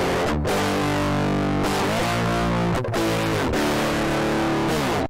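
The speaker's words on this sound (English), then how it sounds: "we'll look at distortion and how you can use Waveshaper to make sounds like this" A guitar played through a waveshaper distortion effect running on an STM32 microcontroller, giving loud, sustained, heavily saturated chords that change every second or so and break off cleanly at the end, with no talking.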